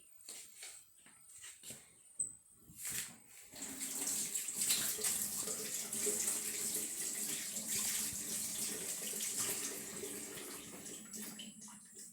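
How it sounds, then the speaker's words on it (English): Tap water running steadily over hands being washed at a kitchen sink, preceded by a few clattering knocks, then a continuous splashing stream for most of the stretch. "I am just going to give my hands a quick wash"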